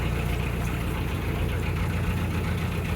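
A boat engine runs at low, steady revs, a continuous muffled throb close by with no talking.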